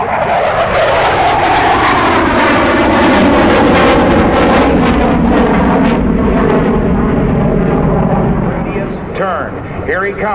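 An F/A-18C Hornet jet flying a demonstration at the NAS Oceana air show roars past loudly, its whine sweeping downward as it passes, with air show commentary over the public address.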